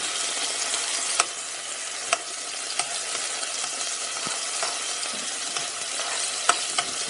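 Garlic frying in a pan for tilapia and rice gives a loud, continuous sizzle, broken by scattered stirring clicks and scrapes at a close distance.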